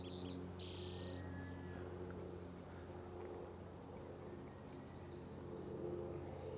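Warblers sing in short, high chirping phrases during spring migration, fairly faint over a steady low background hum, with no one talking.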